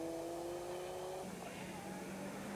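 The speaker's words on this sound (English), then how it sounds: "here's the man who's chasing him, Didier Monin, with the Mazda 323" Mazda 323 Group N rally car driven by Didier Monin on a rally stage, its engine note holding a steady tone and then dropping to a lower pitch as it passes, fairly loud and without speech.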